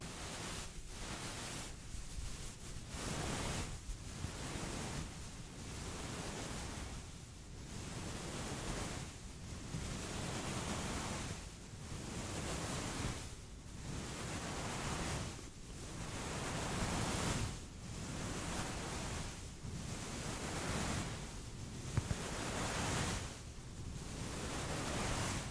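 Soft rhythmic whooshing swells and fades in regular waves, like surf washing in and out, close and steady with no talking.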